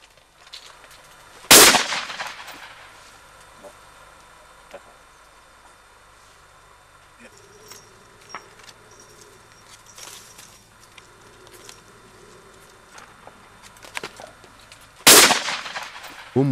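Two loud shotgun blasts at wood pigeons ring out about thirteen seconds apart, each with a short echo, over quiet outdoor ambience with faint clicks and rustles, during a migratory bird hunt in Spain.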